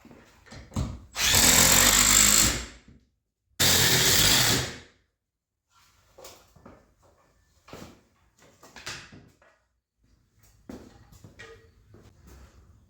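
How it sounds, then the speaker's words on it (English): Two loud, close bursts from a power drill drive screws into a shelf in a workshop, followed by quieter handling noises and movement. "I'm gonna throw a couple screws in here, one on top, one on the bottom, just to get it held into place"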